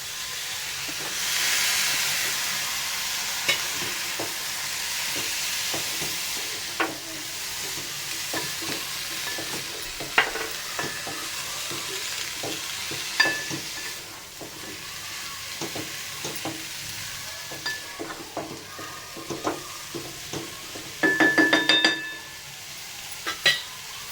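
Brinjal pieces stirred and fried in a pan for Bhogichi bhaji, a steady soft sizzle and hiss with frequent clicking scrapes of the spoon and a brief rattling burst near the end.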